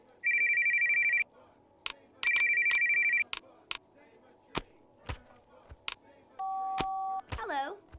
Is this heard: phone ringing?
yes